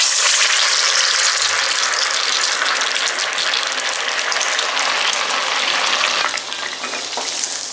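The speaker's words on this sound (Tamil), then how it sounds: "இப்போ இதை உடனே வந்து எண்ணெயில் போட்டு பொரிச்சு எடுத்துக்கலாம்." Pinwheel samosas deep-frying in hot oil, a loud, dense, continuous close-up sizzle and bubbling that eases slightly near the end, with no talking.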